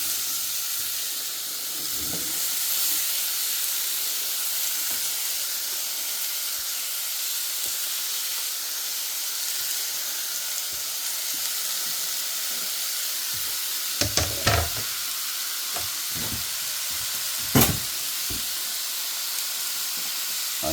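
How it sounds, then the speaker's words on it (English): Apples sizzling in a buttered skillet, a steady hiss and crackle of frying throughout, with a few brief louder spits and pops near the end, no talking. "I add a little bit of butter to my skillet. So now I'm going to add my apples"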